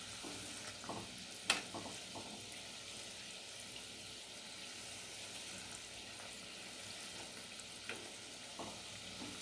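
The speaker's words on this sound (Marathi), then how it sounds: "तर दुसऱ्या बाजूने देखील आपण सोनेरी रंगावर तळून घेणार आहोत।" Medu vada frying in oil over medium-low heat, shown after being flipped to brown the second side: a quiet, steady bubbling sizzle with a few sharp clicks of a utensil, close but faint, no talk.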